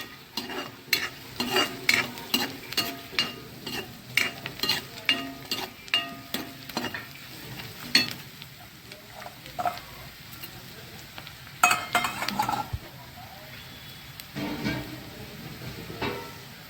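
Dal sizzling and frying in a pan while being stirred, with repeated scraping strokes of the spoon against the pan over a steady fry, close and fairly loud throughout, with no voices.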